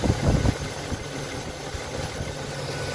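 A Chevy/GMC LS V8 engine idles right after a cold start, giving a steady, close, even rumble with a faint ticking texture throughout, and no voices.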